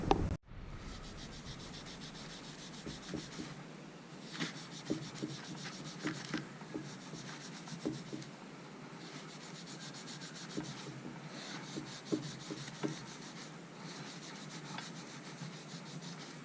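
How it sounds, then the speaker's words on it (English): Steady back-and-forth rubbing as a 3M abrasive pad scrubs a part from a Wacker Neuson 1550 plate compactor, close and fairly quiet, rhythmic strokes continuing throughout with no talking. "I've actually got a 3M abrasive pad that's it's not too aggressive at all."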